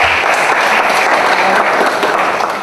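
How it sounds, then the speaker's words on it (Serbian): Audience applause at a Novi Sad public debate, a dense, steady wash of many hands clapping at close range that holds evenly loud for the whole stretch. "Ja mislim da vam zaslužuje aplauz."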